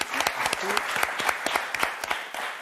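A French television game show studio audience applauds two returning contestants, with loud, fairly brisk clapping and distinct individual claps standing out over the crowd.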